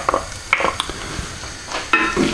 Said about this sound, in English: we just want to cook these onions through for about 3 or 4 minutes until they just start to soften